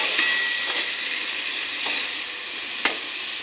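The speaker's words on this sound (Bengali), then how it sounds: "পুঁই পাতাটা ডিমের সঙ্গে মিশিয়ে নেব" Scrambled egg with malabar spinach leaves stirred in a hot pan: a steady, soft sizzle with a few sharp scraping clicks from the spoon against the pan.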